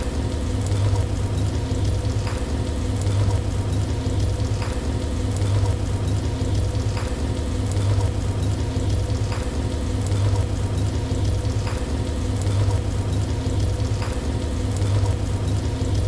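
Pepper chicken sits covered in a pan to cook, giving a steady, even sizzle and patter like light rain, with faint periodic ticks and a low hum underneath throughout.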